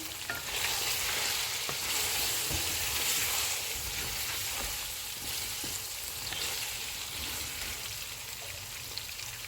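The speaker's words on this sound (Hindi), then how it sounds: "सब्ज़ मिर्चें डालेंगे, इनको 1 मिनट तक भूनेंगे" Green chilies frying with chicken in oil for a white chicken pulao make a steady, dense sizzle like rain on a surface, close and constant, with faint stirring and no talk.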